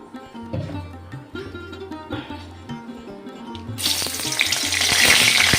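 Potatoes going into hot oil for a Bengali jackfruit curry with little oil: a low bubbling that breaks into a loud, bright, steady sizzle partway through and keeps building, close up with no talk.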